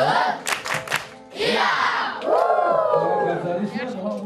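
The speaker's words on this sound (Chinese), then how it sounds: "他们洪亮又清脆的卢凯欢呼声，表达出对贵宾的欢迎。" Children from kindergarten to upper primary age cheer loudly in Rukai in Maolin to welcome guests, a bright crowd of high voices rising in bursts of shouts and then a sustained, swelling chorus of whoops.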